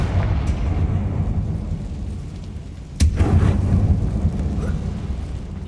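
A fiery Confringo explosive spell in the Hogwarts Legacy video game goes off as a single sharp, booming blast partway through, over a steady low rumble, with no talking.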